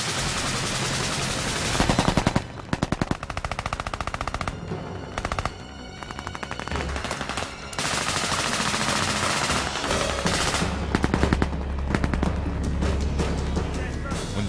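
Gunfire from an Army Ranger School patrol attack on an objective: sustained bursts of automatic machine-gun fire mixed with scattered single shots, loud and close, continuing almost without pause throughout.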